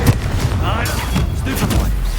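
Fiery Confringo blast spell going off during a Hogwarts Legacy duel, a loud booming burst with crackling thumps over continuous game noise and voices.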